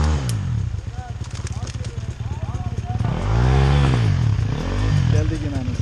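A motorcycle engine revs hard on a steep dirt climb up from a creek, a loud, close, throbbing exhaust rising and falling in surges, with people shouting over it.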